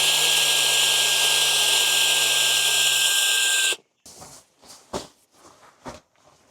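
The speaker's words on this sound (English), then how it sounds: "So this is where that MF200 Wolfbox air blower shines." A Wolfbox MF200 air blower inflating an air pad at a truck-bed camping setup gives a loud, steady high whine for several seconds, then cuts off abruptly, followed by a few softer handling knocks.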